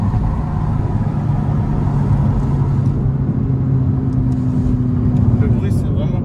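Audi R8 engine rumbling steadily from inside the cabin, a loud continuous low drone with a faint rising tone near the end, under a voice.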